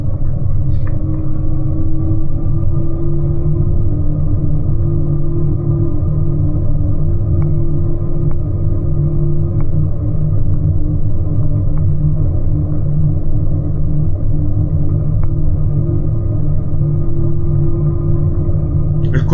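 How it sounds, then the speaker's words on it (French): A Commodore motorcycle cruising steadily, its engine giving a continuous low rumble with a smooth, even drone throughout and no talking. "Le Commodore roule tranquillement."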